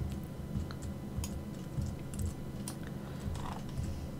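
Computer keyboard keys clatter in quick irregular taps during a Kerbal Space Program session, faint and close over a low background hum.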